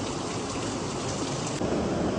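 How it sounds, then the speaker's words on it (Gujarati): Heavy rain pours down steadily, a dense continuous hiss of water with no pauses. "બહાર વરસાદ એટલો આવે છે"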